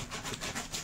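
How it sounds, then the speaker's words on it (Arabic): A saw rasps through a tuna, probably through bone, in rhythmic back-and-forth strokes, close and gritty, with no talking. "هذه دوك تتقطع هاو المنشار"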